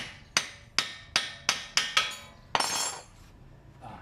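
Six sharp metallic hammer strikes at a steady pace on the front wheel hub parts of a Honda City/Jazz, ringing briefly, followed by a scraping clatter of metal parts.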